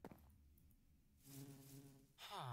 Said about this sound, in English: Look at all those bees hard at work.